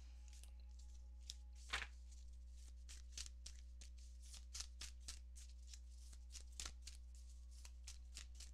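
Tarot cards are shuffled by hand, a close, soft run of riffling and flicking card sounds with one sharper slap early on, over a steady low electrical hum.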